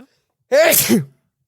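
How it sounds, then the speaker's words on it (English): A single loud sneeze, a sharp gasping intake followed by an explosive burst, close to the mic and alone with no talk around it. "Hold on, I need to sneeze."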